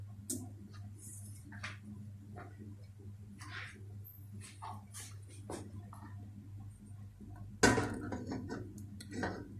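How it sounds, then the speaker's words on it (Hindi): A metal baking stand set down into a pot on a stove with a low flame, producing a sharp metallic clank near the end among softer clinks, while a steady low hum runs beneath. "अब मैं बेकिंग स्टैंड रखने लगी।"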